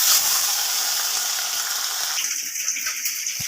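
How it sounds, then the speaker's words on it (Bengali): Small chuno fish frying in hot oil in a kadai, a steady loud hiss and sizzle that drops to a lighter, bubbling crackle partway through. "কড়াতে চুনো মাছগুলো আমি দিয়ে দিচ্ছি আস্তে আস্তে"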